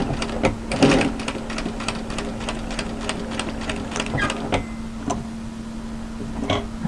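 A sewing machine stitches a waterfall drape coatigan in steady rapid ticking bursts with a constant motor hum underneath, close and moderately loud, pausing briefly for a pivot before a few more stitches near the end.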